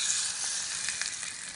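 Mustard seeds sizzling and crackling in hot oil in a small tempering ladle for Karnataka-style lemon pickle, a close, continuous hiss dotted with small pops.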